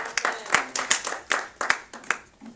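A church congregation claps in praise, a run of sharp, uneven hand claps that start and stop in loose bursts across a couple of seconds, fairly close and with no voices over them.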